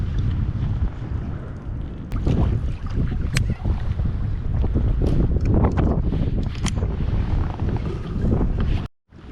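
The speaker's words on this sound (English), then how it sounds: "I'm not even gonna mess around in this wind." Strong wind buffets the microphone on a lake while boating, a steady, loud rushing roar with low rumbling gusts that runs throughout and cuts out briefly near the end.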